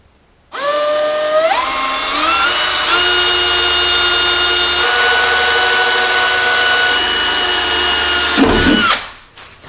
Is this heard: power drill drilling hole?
yes